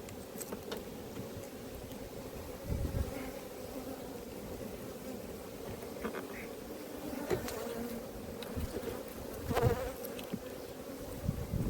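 Steady dense buzzing of many honeybees at an open hive just before rain, continuous and close, with a low rumbling hum underneath and occasional louder passes.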